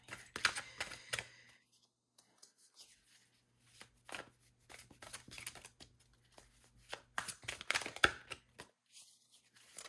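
Playing or tarot-style cards are shuffled by hand in a quiet room, giving several quick crisp riffling bursts separated by short pauses, close and fairly soft.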